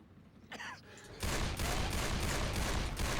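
Magnum pistol gunfire in the zombie shooter Left 4 Dead 2, a dense, loud barrage of game gunfire and chaos starting after a quieter moment with faint breathy sounds.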